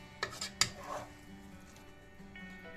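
Ground meat and spinach with tomato sauce sauté in a pan, with a few clinks of a utensil against the pan early on, then quiet stirring and a soft cooking hiss.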